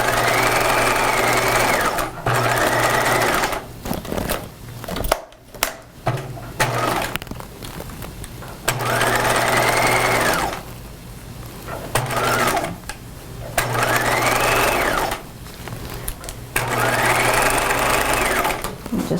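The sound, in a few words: sewing machine stitching a jacket sleeve seam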